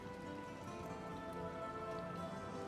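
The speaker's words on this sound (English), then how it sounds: "I do say, is that rain?" Steady rain falling in the Diablo 4 game world, a soft, even patter of drops that holds at a constant low level throughout with no voices.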